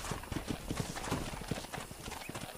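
Horse hooves gallop in a steady, rapid clip-clop rhythm while herding cattle in a video game, loud and close throughout, with faint voices under the hoofbeats.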